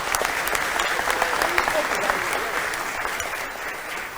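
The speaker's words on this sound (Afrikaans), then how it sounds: "Ons kan vir haar lekker hande klap gee." A church congregation claps warmly for Linda at a senior Sunday service, giving a dense, steady round of applause that lasts the whole stretch.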